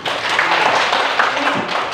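Brief burst of applause in a teacher-training classroom session, a steady dense patter of many hands lasting under two seconds, with faint voices mixed in.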